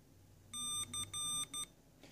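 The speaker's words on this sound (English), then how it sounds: "visual and audio Morse code, visual through the LED lights that light up here as the code is sent over, and audio through the little buzzer that's on here." Morse code beeps from a small buzzer driven by an Arduino board: four short, faint electronic tones in a quick dot-dash pattern with a steady pitch over a quiet background.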